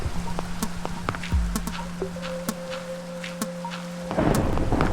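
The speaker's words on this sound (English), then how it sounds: "You gotta make it rain 24/7?" A Minecraft thunderstorm rumbles with a low thunder roll amid rain, game tones and clicks sounding through, then a rush of heavier rain near the end, with no voices.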